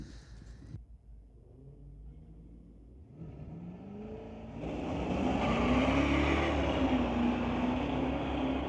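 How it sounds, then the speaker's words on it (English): A 1977 Chevy Camaro launches on a drag strip: after a quiet idle, the engine note climbs, then a loud, sustained roar rises in pitch as the car accelerates away. "Next up, Jay Stern from Ladner, a 1977 Chevy Camaro going against Tyler Levy."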